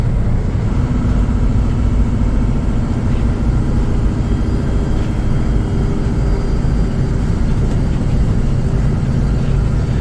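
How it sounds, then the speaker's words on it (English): A truck engine with an 18-speed Road Ranger gearbox runs loud and close, a steady droning rumble that swells gradually as the throttle is eased up. "we'll flick our switch back to low, and then with the throttle just gradually go up a little"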